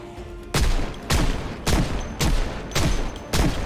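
Handgun fire in the zombie survival game Project Zomboid: six sharp, loud shots spaced roughly evenly at about two-thirds of a second apart, each with a short ringing tail.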